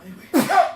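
One abrupt, loud sneeze, close by, with a sharp onset and a brief ringing tail.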